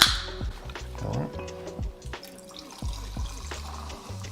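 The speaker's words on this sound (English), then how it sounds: "we're just gonna top it off with some soda water" Soda water is poured to top off a cocktail built over syrup, giving a faint, steady trickle and fizz with small drips and splashes at close range.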